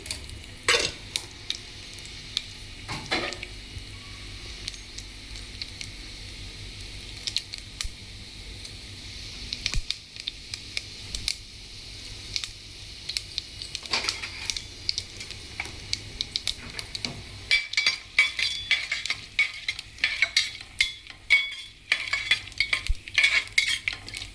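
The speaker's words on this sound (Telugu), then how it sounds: "చిన్న స్పూన్తో 2 స్పూన్లు" Two small spoonfuls of tempering seeds fry in oil alongside dried red chillies, producing a long run of crackling pops and light spattering with occasional spoon clicks and scrapes. The pace grows busier toward the end.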